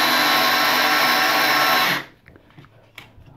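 A Tilswall electric screwdriver whirs loudly and steadily for about two seconds driving a screw into a pre-drilled hole, then cuts off abruptly, leaving faint clicks and handling noise.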